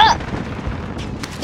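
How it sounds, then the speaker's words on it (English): A thrown grenade goes off in Call of Duty: Modern Warfare's Plunder mode. A sharp blast at the start fades into a rumbling tail. "I just threw a grenade in there."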